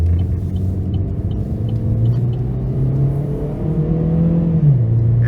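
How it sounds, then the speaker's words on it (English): A 2017 Chevrolet Sonic's 1.8-liter four-cylinder engine revs up steadily under hard acceleration out of a corner, its low droning note climbing in pitch, close and loud with no talking. "I'm gonna put my foot in it coming out of this corner."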